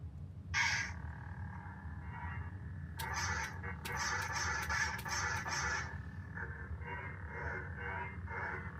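A Count Dooku toy lightsaber gives off a steady electronic Sith-style hum with a brief ignition burst and a cluster of crackling clash pulses in the middle, heard close against low background noise.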